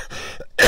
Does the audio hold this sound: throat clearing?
yes